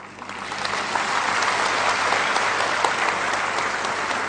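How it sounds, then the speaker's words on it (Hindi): An audience bursts into loud, sustained applause, a dense crowd of hands clapping steadily for several seconds without pause. "तो मैं चाहूंगा कि आप एक ऐसी ताली बजाएं"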